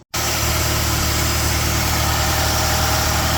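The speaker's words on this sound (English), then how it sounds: "all it needs now is to put the belt and run it and bleed the fluid" A Nissan Altima engine, just fitted with a replacement power steering pump, starts abruptly and then idles with a steady, unbroken hum and low drone for a few seconds.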